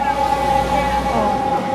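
An ambulance siren wails on a busy New York City street, a steady high tone over loud traffic rumble and city noise, fairly close and sustained throughout.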